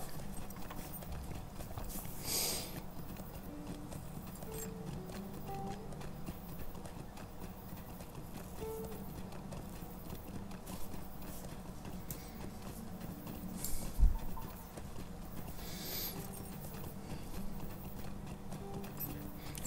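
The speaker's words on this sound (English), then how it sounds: "Okay, so we just jump on a horse." Horse hooves clip-clop in a steady galloping rhythm while riding through the fantasy world of the online game Lord of the Rings Online, a continuous moderate patter over a low ambient game soundtrack with no talking.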